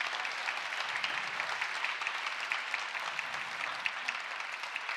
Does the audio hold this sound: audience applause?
yes